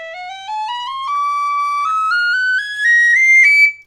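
A Killarney high D tin whistle plays a single clean tone that steps upward through a rising scale into the third octave, loud and alone with no accompaniment.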